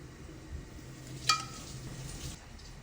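Oil sizzles softly with garlic and onion in a pot for fish vegetable soup, a faint steady frying hiss with a brief sharper crackle.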